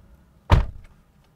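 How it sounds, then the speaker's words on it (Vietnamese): A car door is opened with a single short, close thud and rattle, followed by quiet. "ta mở cửa ra, đẩy cửa ra rất thoải mái và an toàn"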